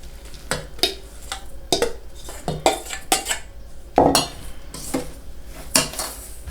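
A spoon scrapes and clinks around a bowl, stirring blended rose petals into sugar in repeated strokes, close and fairly loud, with no voices.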